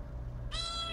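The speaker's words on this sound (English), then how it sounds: "Say meow one more time." A cat in a home kitchen gives one short, clear meow midway through, close to the microphone, over a quiet low background hum.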